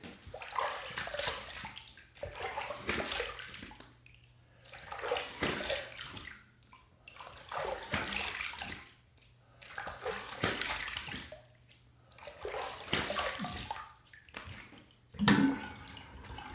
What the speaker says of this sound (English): So we're gonna do a warm water rinse and then a cold water rinse to close my pores